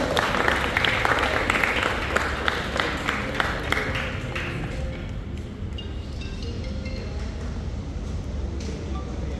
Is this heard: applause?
yes